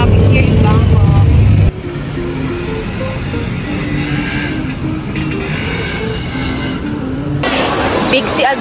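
Road traffic in Bangkok, steady engine rumble of passing cars heard from inside, louder at the start, then muffled, with a voice talking over it.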